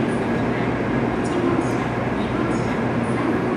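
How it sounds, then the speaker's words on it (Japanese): A JR Central N700A Shinkansen, set G34, at Hakata station on the Sanyo Shinkansen platform, heard as a steady loud rumble and hum of the train with platform ambience throughout. "はい、JR 東海の G34 編成の N700A です。"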